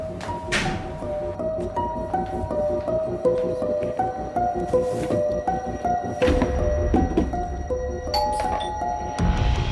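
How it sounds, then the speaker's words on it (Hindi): A chiming doorbell melody plays a descending then repeating series of tones, clear and fairly close, with some soft knocks and rustle underneath. "ये डोरबेल किसने बजा दी?"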